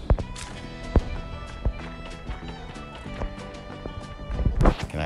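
Horse hooves trotting in a video game, a quick rhythmic clip-clop of repeated sharp hoofbeats close by, with a louder clatter near the end.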